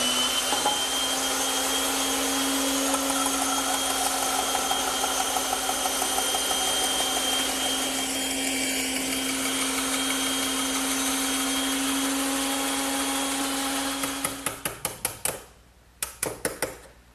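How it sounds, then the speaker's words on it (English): A bandsaw cuts shoulders on wooden tenons for a dining table, its motor humming steadily with a constant high whine through most of the run, then spinning down into a few scattered clunks and taps. "but I prefer to do it on the bandsaw."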